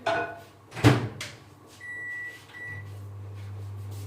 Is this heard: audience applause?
no